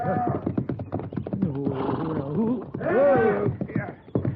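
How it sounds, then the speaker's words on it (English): A horse whinnies loudly and stomps in a radio drama scene at a corral, with hooves clattering near and close under agitated shouting voices. "Well, that horse is stomping him."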